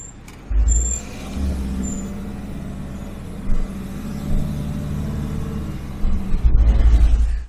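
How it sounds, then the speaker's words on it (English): A car rumbles past on a tight, narrow road near Wasdale in the Lake District, swelling from a low engine drone to a louder close pass with a brief burst near the end, no talk. "Another car."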